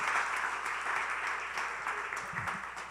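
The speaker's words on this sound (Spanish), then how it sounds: "por favor un aplauso a los expertos que nos compartieron toda la sabiduría" Audience applause for the experts at the close of an event, a dense steady wash of clapping that holds for the whole stretch, slowly thinning toward the end.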